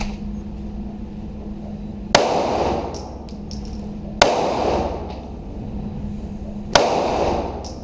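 Three loud, sharp gunshots fired at a moving shooting-range target during a target acquisition drill, spaced about two seconds apart, each ringing out over a steady low hum with no talking.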